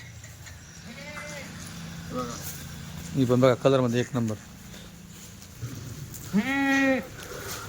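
Kathiyawadi dairy goats being bought and sold let out several wavering bleats, some short and one longer cluster, close by. Someone speaks between the calls.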